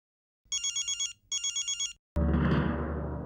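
An electronic telephone ringtone for an incoming call sounds in two short bursts of rapid pulsing tones, then cuts into a louder, noisy burst of room sound.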